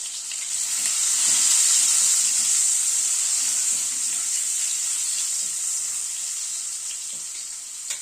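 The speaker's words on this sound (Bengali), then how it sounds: "নুন হলুদ দিয়ে আলুটাকে একটু ভেজে নিচ্ছি" Parboiled potatoes frying with salt and turmeric in oil, a loud, steady, close hissing sizzle that holds throughout with faint stirring beneath.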